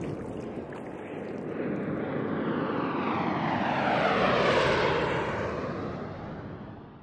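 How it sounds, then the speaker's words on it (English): An airplane passes overhead, its broad engine roar swelling steadily to a peak and then fading away as it moves off. "There's a plane coming!"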